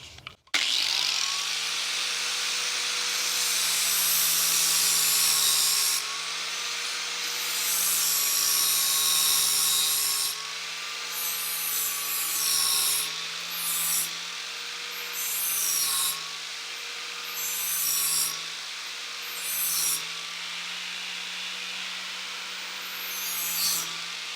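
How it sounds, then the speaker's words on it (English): An 80-grit flap disc grinds a lawn mower blade in a loud, continuous whine with a gritty rasp. The pitch dips and the scraping bursts in repeated passes, close and with no talking. "So let's see how the flap disc does in terms of trying to clean this up."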